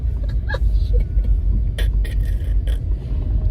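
A truck rumbles along a two-lane road, a steady, loud low-frequency drone that persists throughout, with a few brief scraping and clunking sounds on top.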